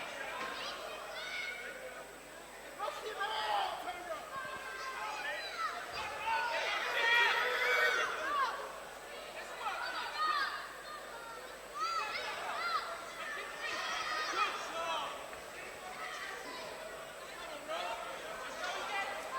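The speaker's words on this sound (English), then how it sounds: "Also a big crowd. You can hear them screaming behind us" A big crowd at a live boxing match keeps up a constant roar of shouting and cheering throughout. Commentators talk over the noise the whole time.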